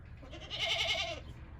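A mother goat bleats on a farm, calling for her kid with one drawn-out, wavering cry that swells and fades over about a second, close and fairly loud against a low background rumble.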